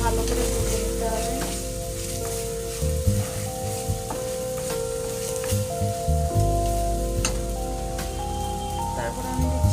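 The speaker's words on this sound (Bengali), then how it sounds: "ভালো করে ভেজে নিতে হবে।" Ingredients for dab chingi, a prawn dish cooked in a green coconut, fry in a pan with a loud, dense, rain-like sizzle that runs throughout, broken by frequent stirring clatters and a faint tonal hum.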